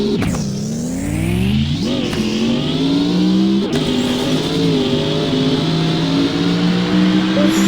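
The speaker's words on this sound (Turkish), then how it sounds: "arabanın sesi bak." A car engine in a car crash video game revs up and down in loud repeated sweeps, shifting pitch as it accelerates, heard close and continuous.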